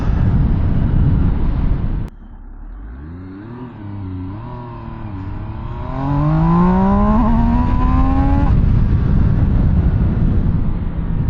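A 2023 MV Agusta Brutale 800RR motorcycle revs hard through several rising gear pulls, dipping briefly between shifts before climbing to a loud, sustained scream, heard close and without talk.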